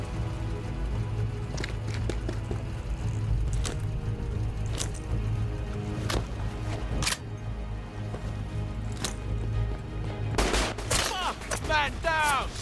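Video game gunfire rings out as sharp, separate shots every second or so over a low steady drone, then turns into a denser flurry near the end with voices.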